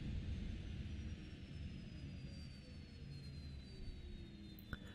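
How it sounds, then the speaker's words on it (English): Boeing 727 jet engines spooling up in FSX flight simulator, a steady broadband roar with a slowly falling whine over five seconds, fairly faint and continuous, with no talking. "Well, there comes the engine sounds."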